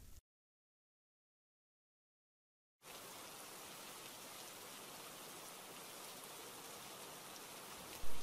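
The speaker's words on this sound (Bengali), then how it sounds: "দেখো, বৃষ্টি পড়ছে" Steady cartoon rain falling as an even, dense hiss that starts abruptly after a long silence and carries on unbroken to the end, with a short blip at the very start and a brief louder swell at the close.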